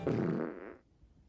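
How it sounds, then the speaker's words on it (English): A single close, loud fart, a drawn-out buzzy blast of about a second that trails off into quiet. "Did you just fart?"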